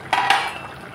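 A cooking pot lid is lifted off a pot of cauliflower and potato: two quick, close metallic clinks with a short ringing tail, then quiet.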